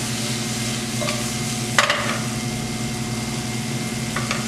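Shrimp tossed in a hot pan that holds heat well, a soft steady sizzle under a low hum, broken by a couple of brief scraping clatters as the pan moves, no talking.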